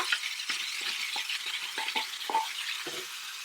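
Chicken pieces fry in a pan, crackling and sizzling continuously, with repeated short scraping stirs of a utensil throughout.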